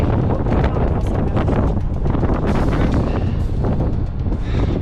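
Strong wind roars and buffets the microphone continuously on Mount Fuji, a loud, rough rush of gusts with no voices.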